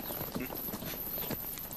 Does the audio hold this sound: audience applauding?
no